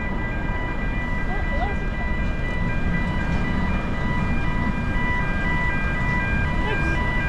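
A train rumbles past steadily and loudly, a continuous low roar with faint tonal whines above it, no breaks throughout.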